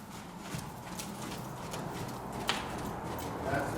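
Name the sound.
horse trotting, hooves clip-clopping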